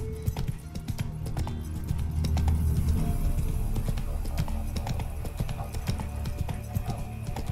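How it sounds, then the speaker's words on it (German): A horse gallops in the video game Witcher 3, its hooves beating a steady, rhythmic clip-clop throughout, with soft game music underneath. "Bitte nur ein leichter Galopp."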